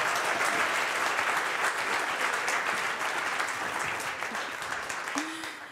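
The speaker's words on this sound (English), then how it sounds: "a big round of applause one more time" Sustained applause from a demo day audience for startup pitch presenters, dense and steady throughout, easing slightly toward the end, with faint voices mixed in.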